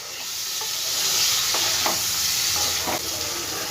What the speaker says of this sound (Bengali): ভালো করে মশলার সাথে আলুগুলো আমি কষিয়ে নেব